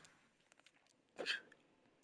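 A single sharp sneeze from someone who is sick, bursting out loud and close after a quiet stretch of faint breathy sounds.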